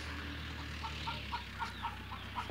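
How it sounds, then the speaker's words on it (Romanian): A noisy hen clucks in a run of short, repeated calls over steady farmyard background hum, fairly close and moderately loud, with no talking. "Aici avem o găină gălăgioasă."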